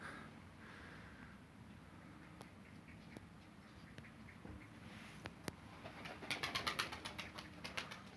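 A tumbler pigeon flies outdoors in Switzerland and lands, with faint wing flaps and a cluster of sharp wing claps near the end over steady outdoor background noise.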